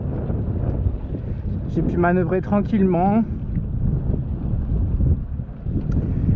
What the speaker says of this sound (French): on voit que on sort gentiment et le vent se lève